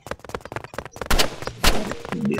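Gunfire in the Roblox Rivals video game, loud close rapid shots in bursts that build into heavier blasts toward the end, with no talking.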